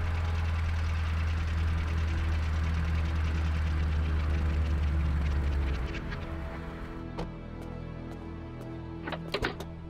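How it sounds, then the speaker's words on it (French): A car engine runs with a low, steady drone that fades after several seconds, followed by a few faint knocks and clicks, in a French animated cartoon. "Écoutez, voilà une voiture."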